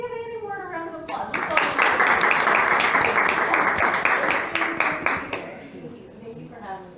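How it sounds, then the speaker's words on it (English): An audience at a book event applauds author Annie Ward, a dense burst of clapping that swells quickly, holds for several seconds and then thins out, with voices chattering around it. "let's go ahead and give Annie Ward a round of applause"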